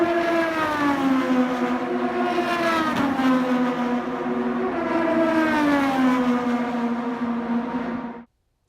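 Race cars on the Indianapolis Motor Speedway oval warming up ahead of May races: a loud, sustained high engine whine with rising and falling pitch as cars pass, ending abruptly, with no speech.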